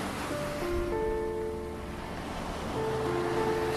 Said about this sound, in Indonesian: angin bertiup kencang dan ombak tinggi pun menerpa perahu mereka, sehingga perahu mereka terbalik